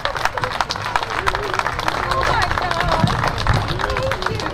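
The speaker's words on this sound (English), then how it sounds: "Please give them all a huge, huge round of applause" Audience at a cooking contest applauding the winner after a cornbread skillet dish: a crowd claps and cheers loudly and steadily, with voices mixed into the noise.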